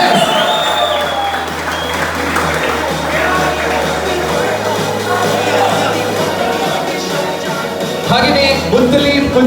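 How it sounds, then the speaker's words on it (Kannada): Loud, sustained applause from a crowd at a pigeon tournament prize ceremony, honoring the referees, with scattered cheers and clapping steady throughout, swelling again near the end. "ಈ ಎಲ್ಲ ರೆಫರೀಸ್ ಗಳಿಗೋಸ್ಕರ ಜೋರಾದ ಚಪ್ಪಾಳೆ ಬರಲಿ"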